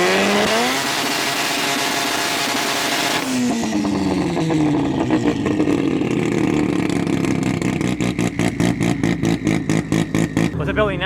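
An FD race car engine revs hard to build turbo boost, rising and holding at high RPM before breaking into a rapid stuttering pulse, loud and close, with people talking over it.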